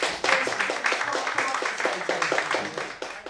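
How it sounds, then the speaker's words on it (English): Live stand-up comedy audience applauding a volunteer named Jason, a close, brisk burst of many hands clapping in a quick, even rhythm that holds for a few seconds. "Can we give a round of applause for Jason"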